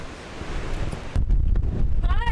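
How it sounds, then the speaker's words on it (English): Strong wind buffets the microphone outdoors in Lajitas, Texas, a dense roaring rush that grows louder and gustier after the first second, with a faint voice near the end. "Oh my god, it's so windy!"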